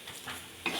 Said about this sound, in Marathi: चटणी कधी पण तेलात छान भाजून घ्यायची